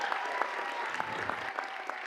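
An audience at a school board meeting applauds teachers of the year, giving moderate, continuous clapping from a roomful of people with scattered sharper individual claps, heard from a middle distance.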